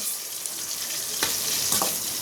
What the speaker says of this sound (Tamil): பாருங்கள், எண்ணெயில் எந்த அளவுக்கு நல்லா வெந்துக்கிட்டே இருக்குது பாருங்கள்